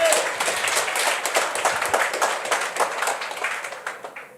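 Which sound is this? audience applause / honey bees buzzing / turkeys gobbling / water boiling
audience applause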